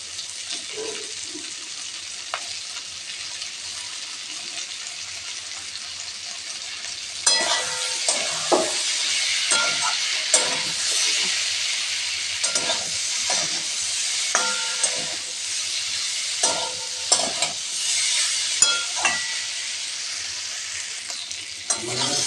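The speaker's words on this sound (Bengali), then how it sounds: "ভেজে রাখা ফুলকপিগুলো আমি দিয়ে দিচ্ছি কড়াইতে।" Fried cauliflower and torn green chillies being stirred in a hot wok, with a steady sizzle that jumps louder midway and a series of scraping stirs and clacks throughout, with no talking.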